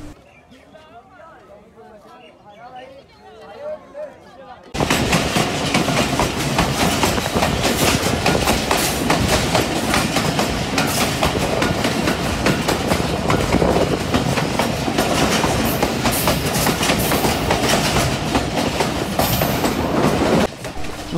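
A Pakistani train rolls into Qila Suba Singh station. After a quiet opening, a loud, continuous rumble and rhythmic clickety-clack take over, with voices talking over it.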